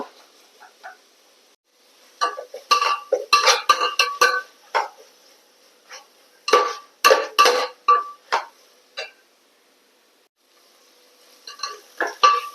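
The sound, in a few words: stirring garlic paste into chicken curry in a pan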